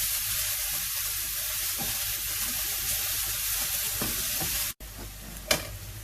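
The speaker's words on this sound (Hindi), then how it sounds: "ये तीनों चीज़ों की पेस्ट है मैंने बनाई हुई है। और इसको भी मैं थोड़ा सा फ्राई करूँगी।" Ginger, garlic and green chili paste frying in a pan for mutton yakhni pulao, a steady close sizzle with stirring scrapes, a brief break near the end, then a sharp clatter.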